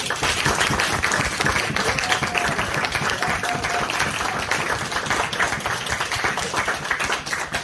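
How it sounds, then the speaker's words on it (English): Steady, enthusiastic applause from a crowd at a wedding, dense clapping sustained throughout without a break. "So we'd like a round of applause for the bride today as well."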